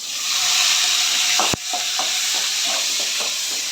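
Garlic fries in oil in a pan for a bitter gourd kuzhambu with a loud, constant sizzle, cut by one sharp knock midway and followed by a series of scraping stirs of a spoon against the pan.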